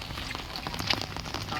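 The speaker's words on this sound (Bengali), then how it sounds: "বৃষ্টি বৃষ্টি" Rain falls on surfaces outdoors with a dense, steady patter and a few slightly louder drops, heard close for a brief moment.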